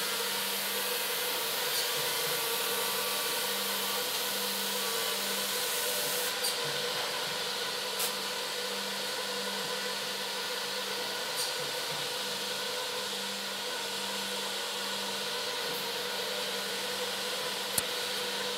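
An SCM edgebander runs as it processes panels, giving a quiet, steady mechanical hum and whir with occasional faint clicks and ticks.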